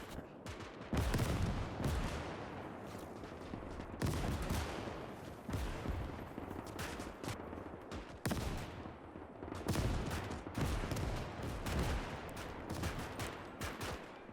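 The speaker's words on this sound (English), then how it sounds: "all the rifles and machine guns. They're going at them really hard with these guns." Rifle and machine gun fire in Gates of Hell during a massed trench battle between Imperial German and Russian Republican troops: dense, continuous volleys and rapid bursts, loud and close, with repeated sharp cracks layered over a constant roar of distant shooting.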